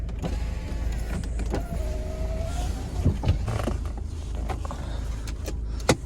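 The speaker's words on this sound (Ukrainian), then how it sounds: "ліве дзеркало регулюється" Electric side mirror on a Volvo V70 adjusting, a soft motor whine with gliding tonal hums and small clicks and creaks, close up and fairly quiet over a steady low background rumble.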